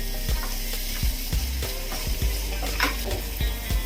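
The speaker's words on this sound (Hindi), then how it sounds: "पनीर भी हमारा अच्छे से फ्राई हो गया है" Paneer fries in a pan for a protein salad, crackling and sizzling loudly up close, with repeated low thumps and clatters as the pieces are stirred and tossed about every half second.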